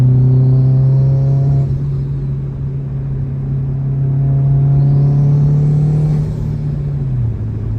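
A turbocharged Subaru STI engine drones loudly close by, revving up steadily, dropping briefly as it shifts, then climbing again with a faint whistling hiss on top.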